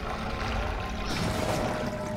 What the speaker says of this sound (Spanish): pues se ha vaciado todo el agua